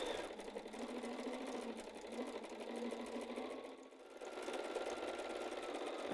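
A sewing machine stitches a fabric letter for a word banner, running as a fast, even mechanical whir with rapid needle clatter, steady and close, pausing briefly near the middle before resuming.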